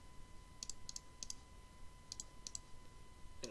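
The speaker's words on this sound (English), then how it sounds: "And I'm sorry if you hear mouse clicking." Computer mouse clicking during Roller Coaster Tycoon play at a desk, quiet sharp single and double clicks in small irregular clusters over a faint steady hum.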